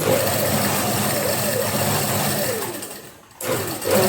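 A sewing machine stitches lace onto a sleeve, running in a steady, close, rapid whir that dips briefly into a pause and then starts up again.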